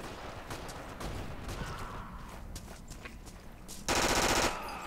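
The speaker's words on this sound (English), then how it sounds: "This is a submachine gun." Automatic submachine gun fire in the video game Forgotten Hope 2, a continuous crackle of shots running through the clip and swelling into a loud, dense burst near the end.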